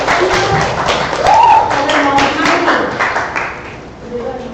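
An audience claps along through a live poetry lesson, the scattered handclaps carrying on under a speaking voice at close range.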